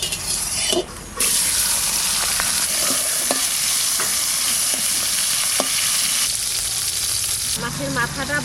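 Hilsa fish head frying in hot oil in a wok gives a loud, continuous sizzle with occasional crackles. Near the end it softens and a different clattering sound comes in.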